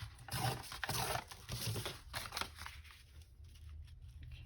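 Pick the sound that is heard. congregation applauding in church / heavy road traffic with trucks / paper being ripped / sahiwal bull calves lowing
paper being ripped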